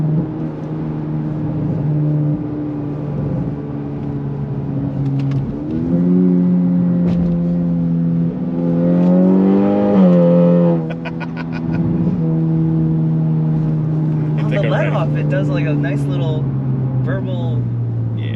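A Honda Civic Type R car engine idles and revs in low rumbling surges with crackly exhaust burbles, a couple of throttle blips swelling and fading, heard up close.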